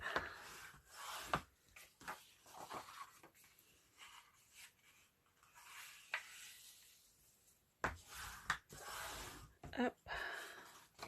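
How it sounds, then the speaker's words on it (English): A folded 8x12 paper piece being burnished, with soft, close rubbing and scraping strokes in irregular bursts separated by quiet pauses. "So let's burnish our 8x12 piece."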